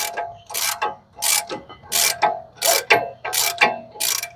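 A ratchet tightens a rear brake bracket bolt on a 2022 Ford Explorer XLT, its pawl clicking in about eight quick bursts, each one a sharp run of clicks with short pauses between, close and clear with no voices.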